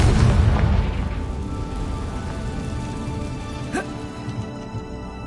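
A Confringo explosion spell in Hogwarts Legacy bursts with a loud, rumbling boom that decays into a crackling, rain-like hiss over several seconds.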